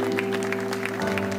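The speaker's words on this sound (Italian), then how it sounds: "l'applauso è partito spontaneo" Brief burst of audience applause at an open-air evening concert by a dance orchestra in Piazza Manzoni, Jesolo, heard over steady sustained musical tones from the stage.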